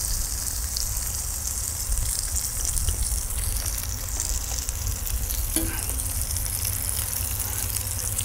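Lobster and its coral sizzle steadily on a hot plancha, a dense continuous frying hiss close by with faint scraping, no talk.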